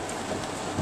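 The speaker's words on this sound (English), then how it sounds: "It is raining like crazy here" Heavy pouring rain outside on a school-day afternoon, a dense continuous hiss with no pauses, steady and fairly close.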